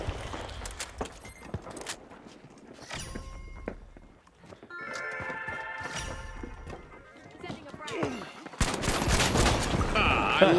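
The SA1216 heavy shotgun firing in the video game The Finals: several loud, booming blasts with crashing destruction and busy game effects around them, plus a voice talking over part of the action.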